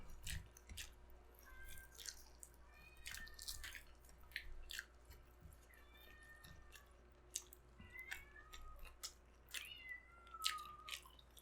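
A cat meows outdoors, a few faint, brief calls scattered over steady low background hum, with chewing and mouth noises of someone eating crispy pork leg close by in the foreground.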